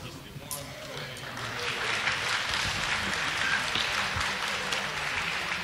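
Applause rolls on from a back room at the cutting finals of the IGX 2017 sword-fighting tournament, a broad continuous wash of clapping heard in the background behind a nearby voice.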